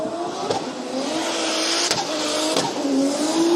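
A drift car rips around the outer zone at a Formula Drift Japan round at Sugo, its engine revving and wailing with tire squeal, loud and close, with sharp shifts in pitch.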